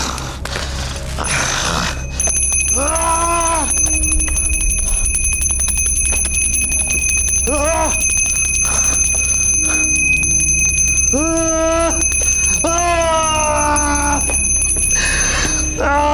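A bell rings with a steady, sustained metallic tone throughout a scene from an Indonesian mystical TV show. Occasional strained, drawn-out vocal sounds rise over it.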